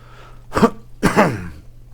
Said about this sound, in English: Very disgustingly clear my throat there.